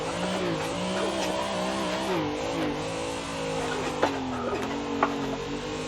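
A racing car engine drones and revs up and down continuously as the car drifts in a racing simulator game, with faint tire squeal and occasional clicks.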